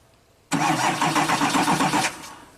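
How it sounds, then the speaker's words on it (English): A Duramax diesel engine cranks over with a loud, close starter whirr that pulses rhythmically for about a second and a half, then cuts off. "let's just try it, see if it cranks."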